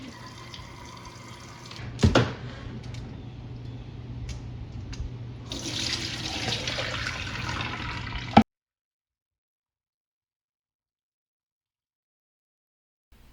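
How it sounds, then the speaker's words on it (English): Tap water runs steadily while vegetables and lentils are rinsed under it in a home kitchen, a continuous hiss that grows brighter partway through, then stops abruptly into silence. "Rinse your vegetables and lentils under running water"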